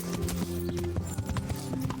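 Horse hooves clip-clop in the medieval role-playing game Kingdom Come Deliverance, a quick steady beat of close, loud hoof strikes over a constant ambient bed.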